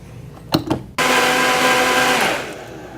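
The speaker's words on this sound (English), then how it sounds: "pour it all in the blender, put the lid on so it doesn't go all over the place" A blender grinds kale into a green smoothie, starting with a couple of clicks and knocks before the motor kicks in with a loud, steady whirring roar that eases slightly toward the end.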